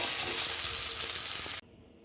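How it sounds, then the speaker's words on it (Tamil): Ginger and garlic frying in a pan for spicy pepper chicken, sizzling loudly and continuously with a bright hiss, then cutting off abruptly to a quieter background. "இஞ்சி பூண்டு எல்லாத்தையும் போட்டு நல்லா வதக்கிக்கலாம்."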